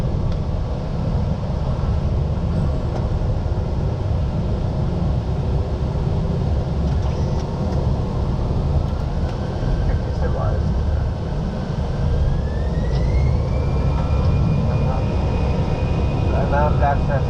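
An airliner's takeoff at night in Shanghai: a loud, steady engine roar that fills the clip, with a rising whine building partway through and faint voices in the background.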